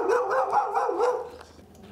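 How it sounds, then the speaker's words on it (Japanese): A large dog barks several times in quick succession, loud and close, the deep woofs trailing off into quieter whimpering noises toward the end. "いやいや、でかいわ犬が。"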